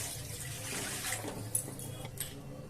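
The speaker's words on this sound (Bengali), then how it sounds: "আমি এই গ্লাসের 1 গ্লাস জল দিচ্ছি কড়াইতে" A glass of water poured into a hot wok while making milk puli pitha, a soft splashing gush of liquid close by, fairly quiet and without talk.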